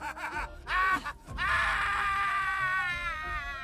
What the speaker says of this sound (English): And what was once laughter is now an anguished scream.